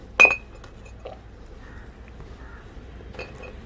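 Glass beer bottles are set against one another while being arranged into a round flower pot: one sharp close clink, then a few fainter taps and clinks spaced out in a quiet room.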